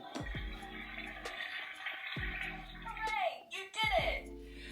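A toy potty with a mini flush plays its flushing sound effect several times in a home, short electronic whooshing bursts heard alongside a voice.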